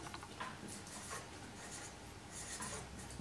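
A pen scratches a word onto paper in short, soft strokes, close and alone with no talking.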